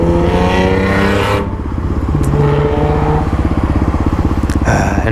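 Kawasaki KLX351 dirt bike engine running close up, a loud steady idle with a dense rapid thump that swells into a few quick throttle blips and revs, continuous throughout with no talking.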